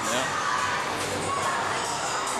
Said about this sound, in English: What a crowd here tonight.